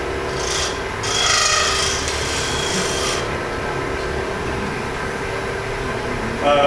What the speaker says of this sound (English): When you turn the tool on its side, that's scraping.